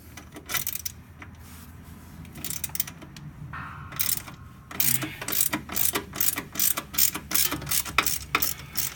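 Ratchet wrench loosening an A-arm bolt on a Mazda ND Miata, with quiet clicks early on, then a run of sharp, evenly spaced ratcheting strokes close by and growing louder.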